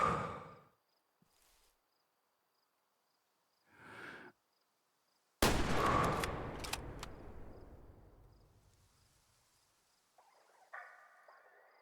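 A single rifle shot fired while hunting in a video game bursts out loud and sharp, then rolls off in a long echoing decay over otherwise quiet, sparse ambient sounds.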